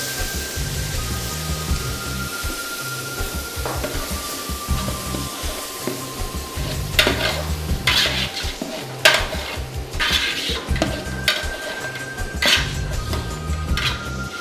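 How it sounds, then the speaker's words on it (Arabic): Chicken stirred in a pan with yogurt and spices, giving a steady busy clatter of a utensil scraping and knocking the pan, with occasional sharper clanks over a low sizzling bed; no talking. "وتحريك الدجاج مع المكونات. الزبادي والبهارات."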